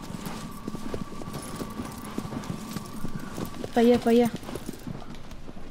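Horse hooves trot in the video game Shadow of the Colossus, a steady clip-clop under a voice, with a brief whinny-like tone near the end.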